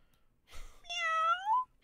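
A person imitates a kitten's meow with one clear, rising-then-falling mewing call, close and isolated in quiet, after a brief breathy onset.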